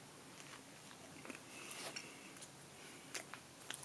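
Someone bites into a peanut butter and jelly waffle sandwich, giving a few faint crisp crunches and soft chewing clicks, close up and quiet, with no talking.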